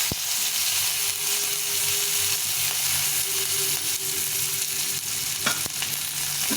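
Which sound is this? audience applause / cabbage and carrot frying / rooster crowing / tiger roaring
cabbage and carrot frying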